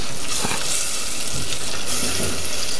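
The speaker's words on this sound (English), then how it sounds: "And then we're gonna saute the onions for just a few minutes until they kind of soften and wilt down a bit" Onions sautéing in butter in a pan, a loud continuous sizzle with bright hiss and a few soft stirring scrapes, no talk.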